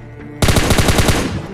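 Rapid automatic gunfire in a mobile battle royale game, a loud, close burst of about ten evenly spaced shots lasting around a second, no talk.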